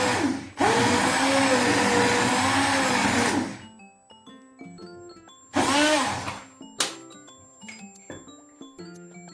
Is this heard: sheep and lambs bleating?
no